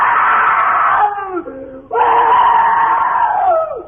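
Loud, anguished screams in a 1948 Rádio Tupi radio drama rise in two long wailing bursts separated by a brief dip, set in a sitting room at night.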